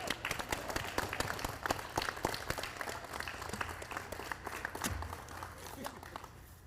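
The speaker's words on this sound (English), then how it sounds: "Another round of applause for Team McDonald." Spectators at a junior women's curling championship applaud a team, crisp individual claps layered into a moderate round of clapping, with voices talking through it as it gradually thins.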